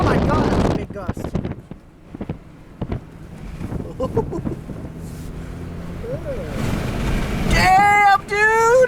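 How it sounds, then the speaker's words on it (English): Strong gust of wind roaring against the microphone in a residential neighborhood, rising into a loud sustained rush with a vehicle and people talking close by. "Oh my god, that's a big gust."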